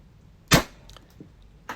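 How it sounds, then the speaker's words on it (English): A TCP less lethal launcher with a 6-inch barrel fires a double shot: one loud, sharp blast followed by fainter thumps and a second crisp report near the end, with no talking. "but that was a double shot"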